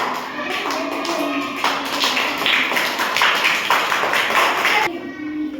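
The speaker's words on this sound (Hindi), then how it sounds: "इन बच्चों के लिए तालियां बजाइए।" Classroom applause for schoolchildren, steady clapping from many small hands throughout, fairly close, with children's voices mixed in before it stops abruptly.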